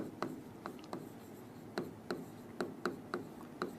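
A pen writes out definitions on paper, with short scratchy strokes repeating in an irregular rhythm, close and quiet, and no voice over them.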